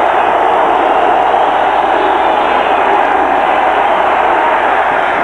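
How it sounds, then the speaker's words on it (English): A packed football stadium crowd at a Georgia Tech versus Arizona college game roars steadily, a loud, continuous wash of cheering with no break. "Listen to this crowd."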